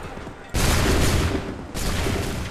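A musket volley fires in Assassin's Creed 3 Remastered, a loud, dense burst of gunfire crashing in suddenly, followed moments later by a second heavy volley that rolls on.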